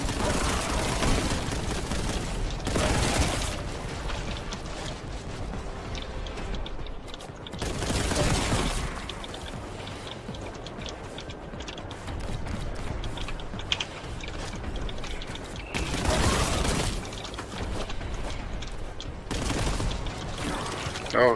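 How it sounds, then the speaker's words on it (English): Enemy gunfire in the video game Warhammer 40,000 Boltgun, dense rattling bursts of shots and mechanical clatter running continuously under loud game music and effects, with heavier blasts recurring every few seconds. "they're shooting at me"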